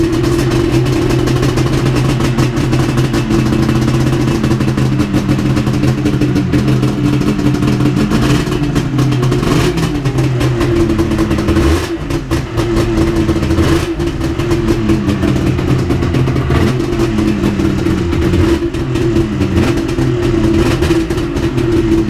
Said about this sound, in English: Mine's got the Bender racing exhaust. It sounds pretty cool.